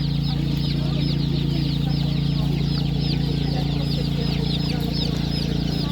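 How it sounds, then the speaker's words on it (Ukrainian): Chicks and chickens for sale at an outdoor animal market cheep and cluck densely and continuously, a loud, steady chorus of many birds close by. "Гарні курчата такі."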